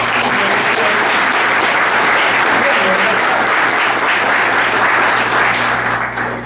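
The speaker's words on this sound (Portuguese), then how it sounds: "Gostaria de pedir a vocês uma salva de palmas para Joana Nobre." A dense, sustained round of applause from an audience at a spiritist week debate, loud and continuous throughout with a low steady hum underneath.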